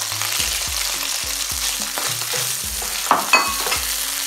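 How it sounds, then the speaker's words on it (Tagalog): Anchovies and onion sizzle steadily in a hot pan for Spaghetti alla Puttanesca, with a spoon scraping and stirring in short repeated strokes and two sharper clatters near the end, no voices. "Constantly mix your anchovies until mag-melt ito at maamoy nyo na yung aroma."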